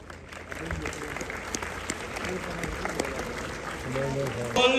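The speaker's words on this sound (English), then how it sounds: "Please welcome him with a huge round of applause." Crowd applause rings out across a cadet college parade ground during a parents' day ceremony, welcoming an honoured guest; steady clapping continues throughout, with an amplified voice and other talk over it.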